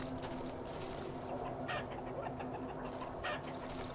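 Chickens cluck softly in the Darkwood video game, a few scattered clucks over a steady low ambient hum, fairly quiet and with no talk.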